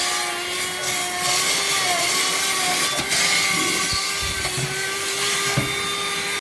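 An AUDEW wireless hand vacuum runs steadily with a loud, continuous high-pitched whine and motor hum, held on without pause while picking up food debris.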